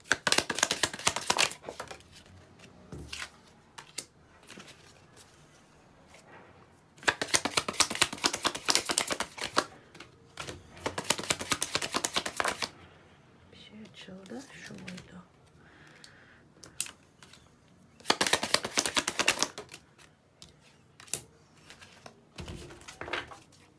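Tarot cards being shuffled and laid out on a table for a reading, coming in several bursts of crisp papery flicking and slapping separated by quieter stretches with soft handling noises and occasional talk.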